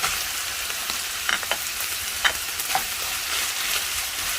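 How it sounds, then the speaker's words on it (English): Onion sizzling in a hot pan while being browned for ranchero beef, a steady loud frying hiss with occasional scraping stirs, close up and with no talking. "Now I'm going in with my onion."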